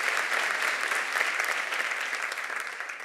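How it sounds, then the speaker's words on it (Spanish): Sustained, dense applause from a large audience, steady and loud throughout with no pauses. "Un fuerte aplauso para ellos"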